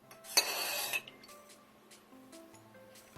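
A brief metallic clink and scrape sounds as salt and sugar are stirred into warm rice vinegar, followed by a few faint light taps in a quiet kitchen.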